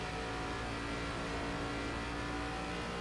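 An ARCA Menards Series race car engine in the iRacing sim revs hard and continuously, a loud buzzing drone that rises and falls slightly as the throttle is worked, with no talk over it.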